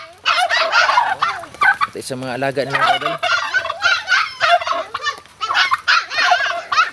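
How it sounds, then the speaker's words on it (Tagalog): A bold turkey kept as a pet gobbles in loud, rapid bursts, repeatedly at close range, while someone talks over and between the calls. "Ito naman pabo mga kaidol na napakatapang."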